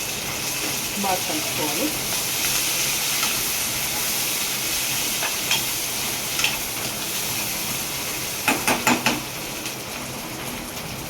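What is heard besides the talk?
curry leaves sizzling in hot oil for sorakkai curry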